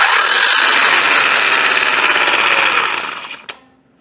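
An electric impact wrench from a VEVOR hydraulic jack kit spins in tighten mode, a loud steady whirring buzz that winds down and stops after about three seconds, ending with a click.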